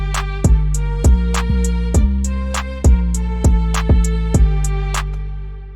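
West Coast type beat built in FL Studio, with a deep 808 bass sliding under sharp kick and snare hits and sustained synth chords, a steady mid-tempo loop playing loudly with no talking.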